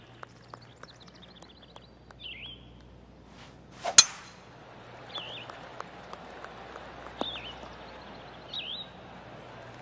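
Single crisp club strike on a golf ball in PGA TOUR 2K21 at the Green Hill Classic, one sharp thwack mid-clip amid quiet outdoor ambience with occasional bird chirps.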